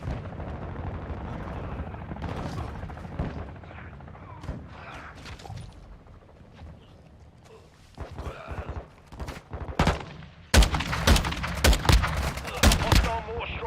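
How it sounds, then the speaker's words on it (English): Mortar strike explosions in Call of Duty: Modern Warfare II, a burst of sharp, loud blasts and crackling impacts arriving close together toward the end, after quieter gunfire and a voice speaking. "Hostile mortar strike near your position."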